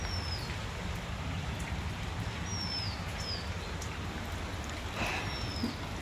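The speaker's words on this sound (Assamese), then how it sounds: "বতৰটো বৰষুণ দি আছে" Steady rain falls outdoors as a continuous, even hiss of drops spread across the whole stretch, with a few faint bird chirps above it and no talking.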